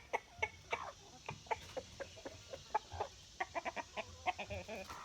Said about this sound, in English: he's a Wyandotte rooster